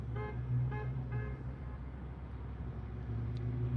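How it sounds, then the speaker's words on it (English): A truck on mud tires drives past on a road, a loud humming drone with tonal whine that swells and fades over a few seconds, alone without talk. "That sound was mud tires on a truck."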